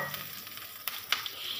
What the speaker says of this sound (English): Now guys, we need to saute our garlic and